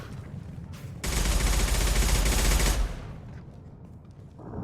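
Mass Effect 2 Legendary Edition gunfire comes as a dense, loud rattle of rapid automatic shots lasting about two seconds, then drops away to quieter background game sound.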